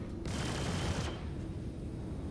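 Ship guns on a Super Hornet in the space game Star Citizen fire in a dense, rapid burst for about a second, loud and close, followed by a fading rumbling tail.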